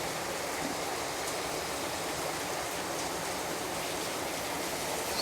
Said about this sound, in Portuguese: Muita chuva, muita água, né?